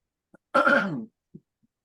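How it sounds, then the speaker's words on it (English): A single rough throat-clearing cough up close during a finance committee meeting, preceded and followed by faint quiet sounds, with no talking. "Sorry in advance for coughing."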